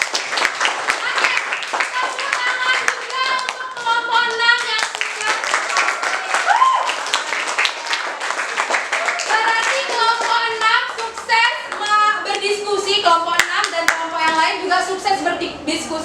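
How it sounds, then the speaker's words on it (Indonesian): A class clapping hands in a mathematics lesson, rhythmic group clapping mixed with a teacher talking and lively voices over most of the stretch. "Oke, tepuk tangan untuk Firza dan pertanyaannya."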